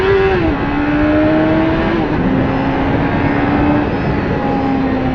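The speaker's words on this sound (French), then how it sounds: "Moteur, très agréable, de 600." A 1997 Suzuki GSX-R 600 sport bike revs hard under way, its whining engine note rising and dropping as it shifts, close and loud with constant wind noise.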